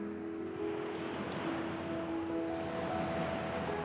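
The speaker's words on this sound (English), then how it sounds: "I find the sound of the water lapping against the shingle soothing" Gentle water lapping against a shingle beach at Eastney, Portsmouth in winter, a steady soft wash of small waves running over stones with light wind noise across the microphone, continuous and fairly close.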